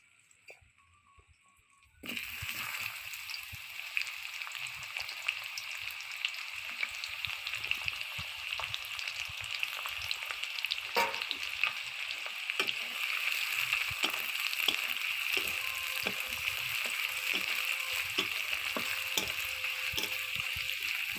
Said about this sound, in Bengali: তেলটা গরম হয়ে গেলে দিয়ে দেব কোচানো পেঁয়াজ